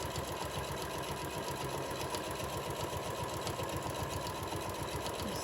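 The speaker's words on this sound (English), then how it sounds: "I'm going to sew straight down the side" A sewing machine runs steadily at close range, stitching straight down the side of fabric layered with fusible batting for a book pillow, a continuous rapid mechanical whir with no pauses or talking.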